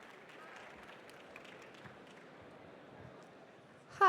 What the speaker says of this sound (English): Huge round of applause for Marilis from Rallyo.